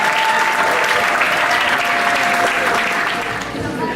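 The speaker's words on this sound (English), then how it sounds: "Please put a very loud, warm round of applause to welcome them to the stage" Warm, loud applause from an audience welcoming a group of presenters to the stage, dense continuous clapping throughout that eases slightly near the end.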